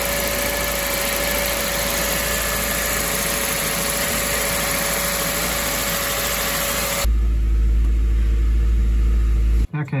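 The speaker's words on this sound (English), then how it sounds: "Now we're going to start the engine" A Toyota 2E engine fitted with an Aisan carburetor runs at a steady idle with a constant mid-range hum, close and loud, then settles into a deeper, steadier drone for the last few seconds.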